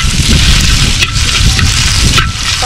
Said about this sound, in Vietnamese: bây giờ bà sẽ rán mỡ nhá